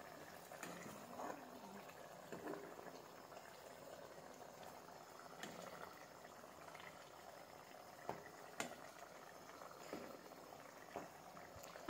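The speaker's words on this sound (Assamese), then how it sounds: "ভালদৰে উতলিবলৈ দিছোঁ।" Fish curry with ginger leaves simmering in a pot, a faint steady bubbling with occasional soft pops and clicks, quiet and close, with no voices.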